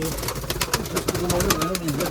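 A racing pigeon coos in low, throaty warbles close by, while a person talks over it.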